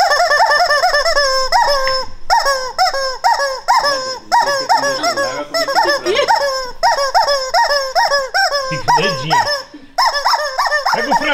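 A squeaky rubber chicken dog toy squeaks loudly and repeatedly in quick, uneven bursts, with a honking, goose-like tone and brief pauses between runs of squeaks, heard up close with no speech.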